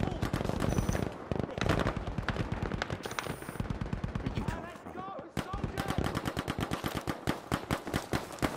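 Battlefield 5 MILSIM gunfire on the Hamada map: loud, rapid automatic bursts and single shots crackle almost nonstop, broken by a brief lull, with voices under the shooting.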